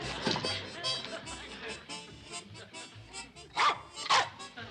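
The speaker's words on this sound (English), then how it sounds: "Stupid dog goes all to pieces in a time of crisis." A dog barks in a sitcom scene, giving a few sharp barks with two louder ones near the end, mixed in with people talking and other scene sounds.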